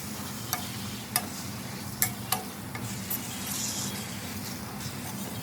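Nylon khaman pieces being mixed into tempering in a pan, with a steady low sizzle and a handful of sharp spoon clinks and scrapes spaced through the stirring, close and fairly quiet.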